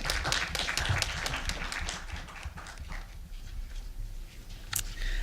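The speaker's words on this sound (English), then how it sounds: "give them a big round of applause" A crowd claps for a group of students, a dense patter of many hands that is loudest at the start and then thins to a softer, scattered clapping that carries on to the end.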